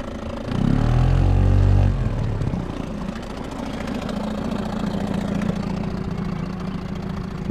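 A motorboat engine idles on the Lahn river at Weilburg-Odersbach, opening with a loud, close throaty surge that settles into a steady, even idling drone.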